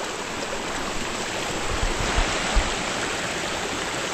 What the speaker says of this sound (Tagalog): Ilog, sapa. Tapos ilog uli.